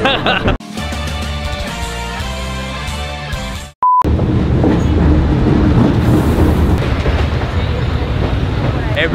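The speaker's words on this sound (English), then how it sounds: "Everybody waiting for the train to go through the middle of the city." A train rolls through the middle of Hanoi city, first with a tonal horn-like drone and then with a loud, continuous rumbling and clattering passage up close, with people talking around it.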